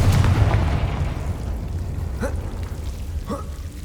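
A Confringo fire spell blast in Hogwarts Legacy opens with a loud, deep booming explosion that rolls into a long rumbling decay, with a couple of faint whooshing sweeps over the fading tail and no voices.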